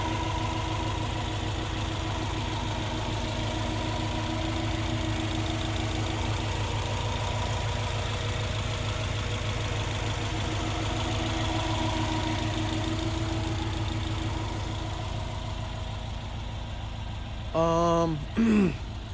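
1995 Subaru Impreza WRX GC8 idling through a big aftermarket exhaust, a steady low rumble heard up close and continuous, with a few short squeaky noises near the end.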